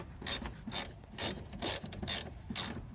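A ratchet works a bolt loose from a truck's bench seat, clicking in six evenly spaced, close-up strokes over about three seconds.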